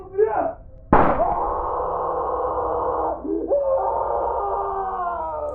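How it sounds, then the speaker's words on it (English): A sharp gunshot inside a house bursts out, followed by a long, loud, sustained shriek of pain from a person downstairs. "we heard shouting from downstairs followed by a gunshot and shrieks of pain."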